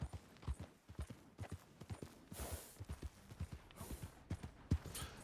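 Horse hooves clip-clop steadily in Red Dead Redemption 2, a close, regular rhythm of sharp hoofbeats on the ground, heard alone with no talk.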